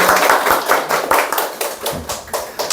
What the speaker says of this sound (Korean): 우리 한양의 박수 한번 보내드릴까요?